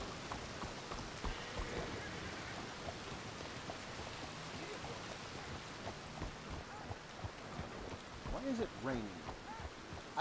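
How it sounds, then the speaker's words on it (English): Steady rain falling in the open-world western game Red Dead Redemption 2, a faint continuous hiss and patter with soft scattered background sounds throughout. "I hate that it's raining."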